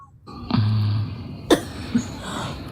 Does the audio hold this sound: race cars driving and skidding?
no